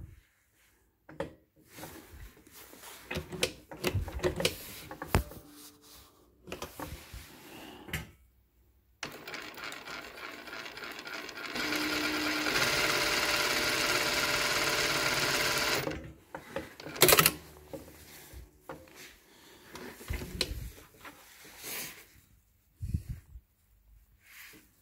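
A JUKI 481 sewing machine starts up and stitches fabric in a steady mechanical whir for several seconds, framed by clicks, handling noises and short bursts of running.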